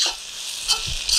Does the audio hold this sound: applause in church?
no